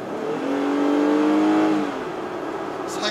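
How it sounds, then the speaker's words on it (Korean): A Jeep Gladiator's six-cylinder engine revs up while driving, its steady rising drone building to a peak before easing back, heard from inside the cabin with a brief knock near the end. "엔진 사운드가 이거 막 무슨 6기통 엔진이 왜 이런 사운드가 나지?"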